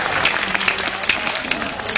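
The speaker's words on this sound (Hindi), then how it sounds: "ठोक दो एक बार ताली।" A comedy show audience clapping together in a steady beat of sharp claps, with crowd murmur underneath.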